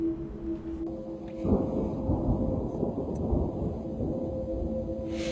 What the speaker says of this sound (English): Here's some of that thunder that I was talking about